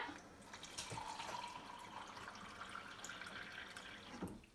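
Kitchen tap running water into a glass, a soft steady stream with a rising filling tone and a few drips, close and quiet.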